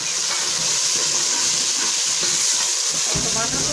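Tomatoes frying in a pan for kadhi pakora, giving a steady, close, hissing sizzle that carries on without a break.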